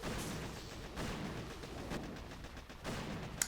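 Gunfire and artillery from the mobile strategy game Boom Beach, a continuous dense rumble of overlapping shots and blasts with periodic swells, mid-distance, no talk.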